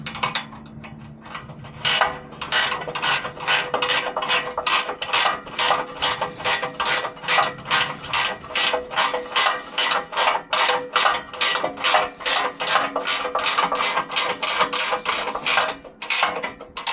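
A hand ratchet clicks in a long, steady series of quick strokes while tightening bolts on an adjustable truck bed roll bar chase rack, close and loud with no talk.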